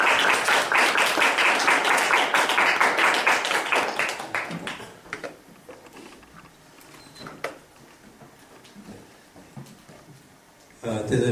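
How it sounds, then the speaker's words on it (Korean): An audience at a Christian lecture event applauds to welcome the lecturer, loud dense clapping for several seconds that thins to scattered claps, then swells briefly again at the end. "다시 한번 우리 큰 박수로 환영해 주시면 감사하겠습니다"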